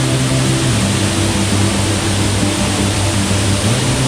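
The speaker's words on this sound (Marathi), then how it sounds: "खूप जोरदार धबधबा आहे" A powerful monsoon-season waterfall near a tiger's den, pouring down a steep rock edge: a loud, steady, unbroken roar of rushing water filling the whole clip, close and constant with no breaks.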